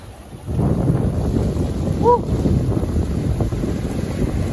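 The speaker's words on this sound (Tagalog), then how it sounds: "sumasampa na yung malalaking alon dito sa cliff" Large ocean waves surge and wash against a seaside cliff, a steady roaring rush of water mixed with heavy wind buffeting the microphone, with a brief tonal chirp partway through.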